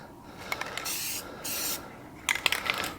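An aerosol can of Plasti Dip sprays Ford Econoline E250 hubcaps in two steady hissing bursts of about half a second and a third of a second, followed by a few short sputtering spurts and faint clicks. The spraying is close and there is no talk.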